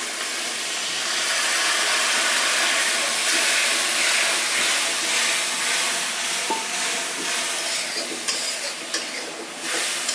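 Masala simmering in cooking oil and water for a Pangasius fish curry, a steady broadband sizzle and bubbling hiss held close and fairly loud for the whole stretch, with a few small clicks near the end and no talking.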